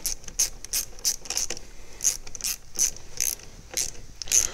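Ratchet wrench tightening the battery terminal clamp on a Ford Fiesta, a close, crisp run of irregular clicking bursts repeated over several seconds with no talk.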